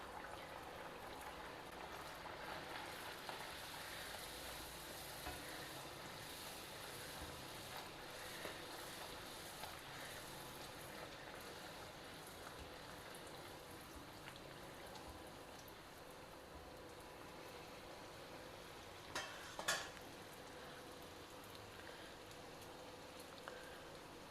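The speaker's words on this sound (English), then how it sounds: "Now deep fry the puris" Puris deep frying in very hot oil, a steady dense bubbling hiss that holds evenly throughout, faint and continuous, with a brief louder crackle near the end.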